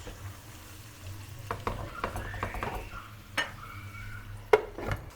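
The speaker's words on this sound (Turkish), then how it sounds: "Güzelce bir karıştırıp kapağını kapatıp pişmeye bırakıyoruz" A spoon stirs a sautéed offal dish of kidney, liver and heart in a pot, with soft scraping and clinking strokes over a quiet sizzle and a few sharper metallic knocks, and no talking.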